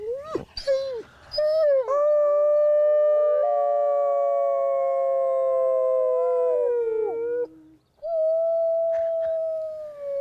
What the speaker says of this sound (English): So we're gonna see if we can get the wolves to howl.